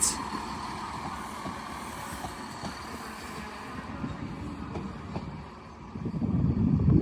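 A passenger train departs Doncaster bound for Sheffield, its low engine rumble and wheel noise rolling on steadily at moderate distance, then swelling louder toward the end.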